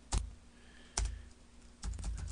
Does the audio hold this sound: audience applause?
no